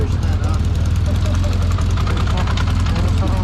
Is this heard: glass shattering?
no